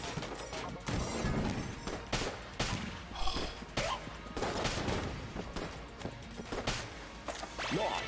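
Rad Gun fire in the video game Enter the Gungeon, rapid repeated shots cracking out in dense bursts over game music and effects, loud and close throughout without pause.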